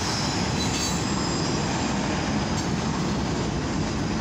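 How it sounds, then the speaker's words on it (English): An eastbound CFE MQT mixed freight train with grain and steel cars rolls past the Jefferson Street crossing in Van Wert, Ohio, a loud, steady roar of wheels and cars with faint squeal, close and continuous. "This is a CFE MQT mixed freight rail train."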